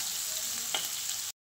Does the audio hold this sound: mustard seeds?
yes